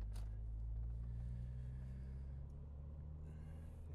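Low, steady engine and road rumble inside a 2005 Honda Civic Type R EP3, with a strong constant low hum and a few faint higher clicks and rustles.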